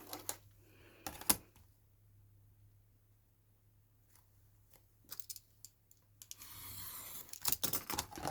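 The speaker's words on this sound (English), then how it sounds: "just trim this edge here" Scissors trim the edge of a wet paper pocket for a journal, giving sparse sharp snips and clicks separated by near silence, then a busier run of cuts toward the end.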